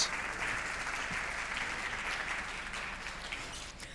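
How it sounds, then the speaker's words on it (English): Steady crowd applause at a business conference as speakers come up to the stage, a dense wash of clapping that holds for the whole stretch without pause. "give me a round of applause up to the stage"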